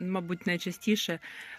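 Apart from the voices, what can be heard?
No everyday noise stands out behind the speech.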